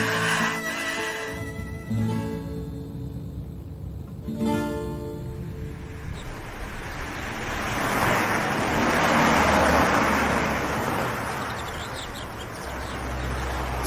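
A car arrives outside, its engine and tyres swelling from faint to a broad, fairly loud rush over several seconds, then easing off, with a low rumble returning at the end.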